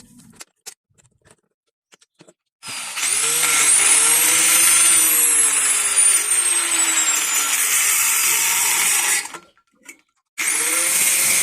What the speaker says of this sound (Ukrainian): Відрізаємо кусок труби.